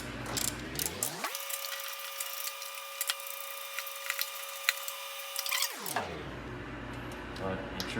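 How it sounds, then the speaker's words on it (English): A large bolt is tightened into the aluminum fuel tank of a Craftsman/Troy-Bilt snowblower, a run of quick ratcheting clicks over a low mechanical hum, close, with brief metallic knocks and faint handling noise. "And we can tighten down our large bolt."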